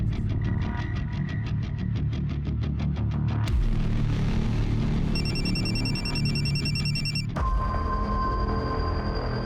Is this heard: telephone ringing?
yes